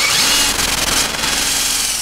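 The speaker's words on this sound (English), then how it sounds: "I'm going to use this large drill bit and try to get a hole straight through the center of this branch." A power drill with a large bit bores through a tree branch, giving a steady, loud, continuous whir and grinding drone that holds for the whole short stretch with no talk.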